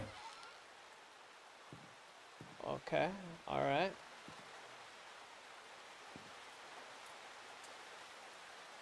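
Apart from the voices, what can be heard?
rain in video game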